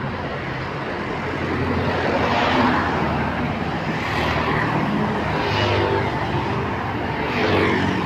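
Steady road traffic with many vehicles passing nearby, a continuous broadband roar that swells as individual vehicles go by, with no talk.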